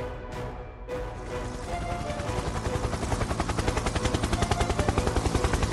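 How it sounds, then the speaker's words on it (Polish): A helicopter closing in, its rotor thump growing into a steady, rapid chopping pulse that rises in loudness, heard alone without voices. "Nadlatuje helikopter"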